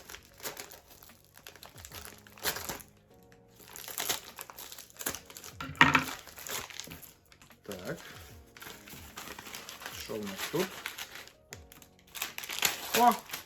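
Close crinkling and rustling of plastic packaging being handled and torn open, in irregular bursts, with someone talking over it.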